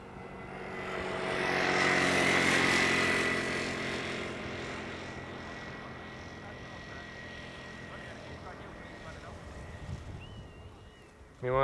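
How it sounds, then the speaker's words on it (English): Transavia Boeing 737 arriving at Schiphol's Polderbaan runway, a broad jet roar that swells to a peak within a few seconds and then slowly fades into a long, distant rumble, with a brief sharper noise at the very end. "Transavia 737 arriving from Kefalonia"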